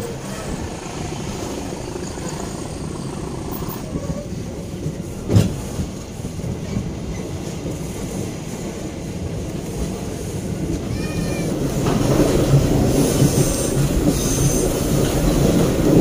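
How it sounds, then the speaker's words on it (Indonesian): A local passenger train departing a station at night rumbles steadily along the rails, wheels clattering and briefly squealing, growing louder toward the end as it picks up speed. "Kereta api lokal Cibatuan diberangkatkan kembali dari Stasiun Rene"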